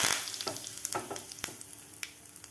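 Cumin and curry leaves crackle and sizzle in hot oil for a tadka over mashed moong dal pithla. Sharp pops burst out irregularly over a quiet fizzing bed, fairly close and moderate in level, fading slightly toward the end.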